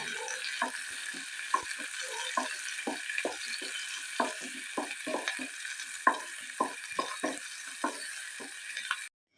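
Sliced onion sautés in oil with mustard and fenugreek seeds for a Palakkad-style curry, giving a steady close sizzle with repeated spatula scrapes and stirs for about nine seconds before stopping abruptly.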